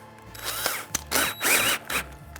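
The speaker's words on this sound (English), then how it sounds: "I'm just going to use a little Forstner bit in here," Power drill driving a small Forstner bit into a wooden chair arm, short whirring bursts that start and stop several times, close and loud.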